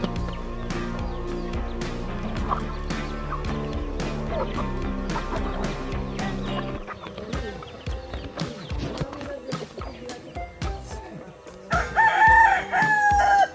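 A rooster in a mountain village crows loudly and close, several drawn-out calls over farmyard clatter, with a louder crow rising near the end.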